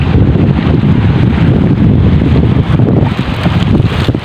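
Strong northeast monsoon wind on a rocky shore, loud gusty roaring buffeting the microphone continuously, with faint water and rustling underneath.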